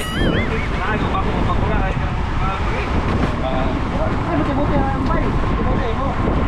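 Heavy wind roars across a boat at sea during a storm, constant and loud with churning water beneath, and voices talk and call out over the gusts.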